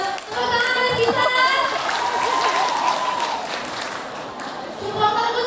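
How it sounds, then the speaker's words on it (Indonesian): Audience applause at a Balinese village PKK riddle competition, dense crowd clapping heard throughout with some voices mixed in, easing slightly before swelling again at the end. "Tepuk tangan kita."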